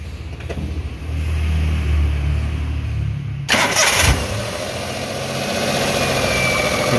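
A Toyota Avanza/Daihatsu Xenia engine is cranked by the starter and catches, then settles into a close, uneven idle whose revs rise and fall unsteadily after a vacuum leak, with no talking.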